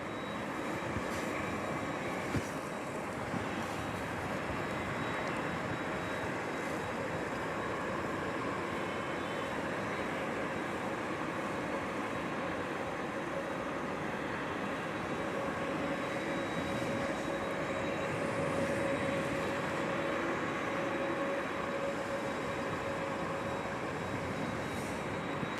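A Qantas airliner takes off at DFW Airport at night, a steady, broad jet roar that holds for the whole stretch at a distance with no break.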